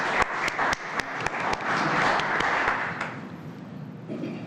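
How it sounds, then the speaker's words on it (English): A room at a board meeting breaks into applause, many hands clapping steadily for about three seconds before fading to quiet murmur. "It's not often people get an applause before they speak."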